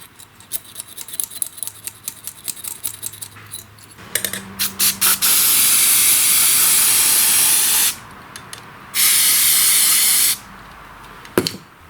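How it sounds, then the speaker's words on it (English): Carburetor cleaner sprayed from an aerosol can onto a lawn tractor carburetor and its cardboard bowl gasket: two long, loud, steady hissing bursts, each several seconds, after some clicking and handling noises, with no talking. "That's why I'm spraying the card cleaner"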